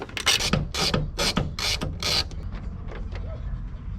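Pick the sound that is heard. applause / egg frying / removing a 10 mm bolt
removing a 10 mm bolt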